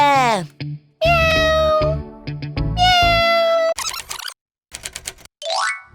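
A kitten in a cartoon children's story meows in several drawn-out, high, clearly pitched cries between bursts of bright chiming and boinging cartoon effects, loud and close.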